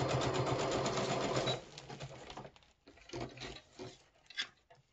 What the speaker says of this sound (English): And the sewing machine.